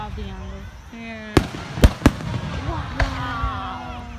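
New Year's fireworks over Alice Springs burst in several sharp cracks and pops, heard at some distance under steady chatter from people nearby.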